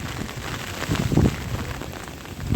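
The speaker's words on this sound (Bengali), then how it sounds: "প্রচুর জল হচ্ছে এই বৃষ্টির জল প্রচুর জল" Heavy rain from Cyclone Remal falls in the Sundarbans at Jharkhali as a dense, continuous wash of drops hitting surfaces, swelling slightly midway.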